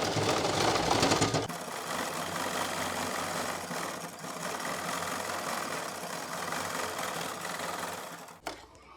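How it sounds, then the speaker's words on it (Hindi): An electric sewing machine runs continuously while stitching the hem edge of a salwar, a steady close mechanical whir that stops abruptly near the end. "अब हमने यहाँ किनारे पे सिलाई लगानी है।"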